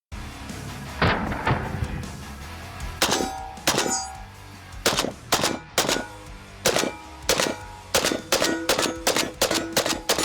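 An AK rifle firing in full auto outdoors, loud sharp cracks in short bursts and rapid strings, closely spaced shots with metallic ringing between them.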